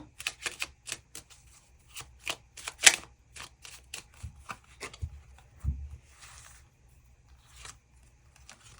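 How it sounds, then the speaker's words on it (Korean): Tarot cards are shuffled and flicked close up in sharp bursts of crisp riffling taps, irregular and fairly quiet, with pauses between and no talking. "추가 카드 뽑아보도록 하겠습니다"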